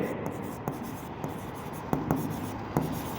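Marker writing on a board during a partnership accounts lesson, close squeaky strokes and sharp taps coming in short irregular bursts over a quiet room.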